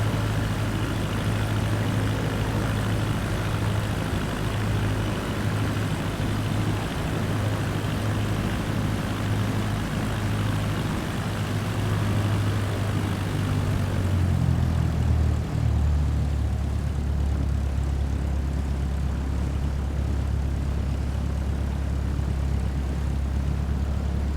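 Single-engine Cessna propeller plane in Microsoft Flight Simulator 2024 taxiing across grass under heavy power, a steady loud droning hum that drops to a lower, deeper rumble partway through as the throttle changes, with no talking.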